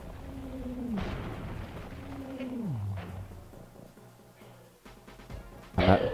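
Gunshots in the Sly Cooper video game come as a few faint pops mixed with descending whistling tones, ending in a louder burst at the close.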